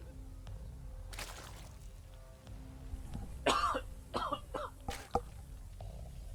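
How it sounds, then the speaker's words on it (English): A few short, harsh coughs close to the mic, spaced a second or so apart over quiet room noise. "Excuse my bit of a cough today"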